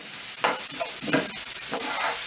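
Chopped onions sizzle steadily in a hot pan, with a few soft stirring scrapes breaking through the constant frying hiss.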